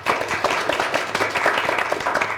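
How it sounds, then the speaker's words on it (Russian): Audience in a hall claps after a contestant's speech at a student political debate competition, a short, dense round of applause with no voices over it. "Вопросов нет, тогда аплодисменты Элине."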